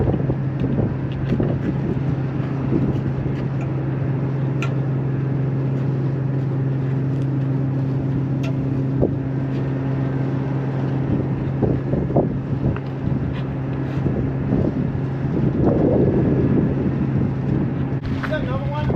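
A Kubota tractor lurches over rough, cratered ground, its steady low engine drone running throughout beneath wind buffeting the microphone, with scattered knocks and rattles as the machine dips and climbs.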